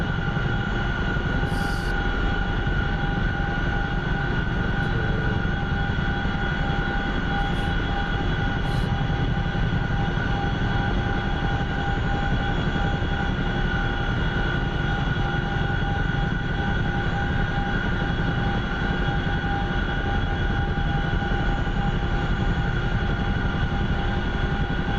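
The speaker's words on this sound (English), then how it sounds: "I'm gonna hop in your helicopter and show you." Helicopter engine and rotor drone inside the DCS flight simulator game, a loud, steady, unbroken hum with tonal whine lasting throughout.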